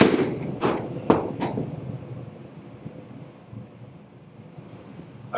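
Four sharp golf ball strikes in quick succession, each a crisp crack with a short ringing tail, heard outdoors at a driving range over faint wind noise.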